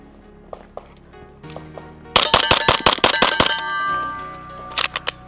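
Rapid string of about eight sharp shots from an MP5 clone ringing off steel targets in quick succession, with a few scattered single impacts and clangs before and after the burst.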